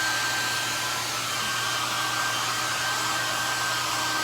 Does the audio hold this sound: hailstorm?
no